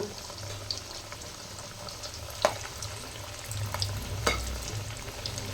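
Potato slices frying in oil in a pan for a semai and vegetable biryani, a faint steady sizzle with a few sharp clicks of a utensil, no talking.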